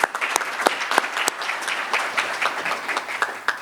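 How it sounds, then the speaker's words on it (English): A conference audience applauding, a dense steady patter of many hands with a few sharper claps standing out, fairly loud. "that deserves a clap"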